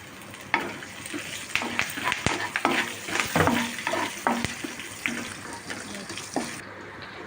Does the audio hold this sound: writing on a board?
no